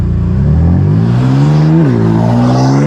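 Stage 2 tuned BMW F80 M3 with the exhaust flaps open, revving loudly and close, the engine pitch climbing then dipping briefly before rising again in a harsh, continuous roar.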